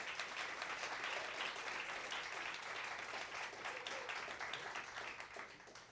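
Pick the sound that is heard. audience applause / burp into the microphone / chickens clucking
audience applause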